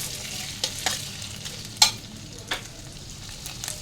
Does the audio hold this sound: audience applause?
no